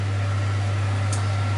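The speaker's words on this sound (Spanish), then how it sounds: "Perdonad el ruido del extractor" A kitchen extractor hood fan running while chicken fries, a loud constant low hum with a steady airy whoosh on top, unbroken for the whole stretch, with one brief faint hiss near the middle.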